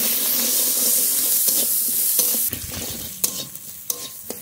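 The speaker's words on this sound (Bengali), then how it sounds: "মশলাটা খুব ভালো করে ভেজে নেব" Spices with salt and turmeric sizzle in mustard oil in a kadai while being stirred, a steady frying hiss broken by several sharp scraping strokes of the spoon toward the end.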